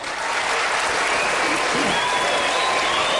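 A large crowd at a 2012 Arizona Republican presidential debate applauds loudly and steadily, a thick unbroken wash of clapping with no speech over it.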